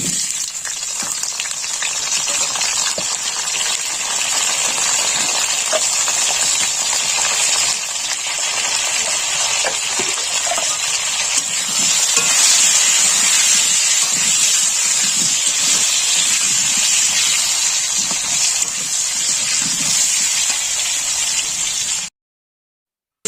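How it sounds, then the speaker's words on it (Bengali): Potato pieces fry in hot oil in a home kitchen pan, a loud steady sizzle and crackle that runs unbroken for about twenty seconds before cutting off abruptly. "তো চলো আলুটা আগে ভেজে করে"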